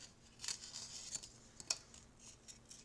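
Scissors snip through decorative paper for an album cover, a few quiet, crisp cuts, one around the middle and a sharper one near the end, with faint rustling between and no speech.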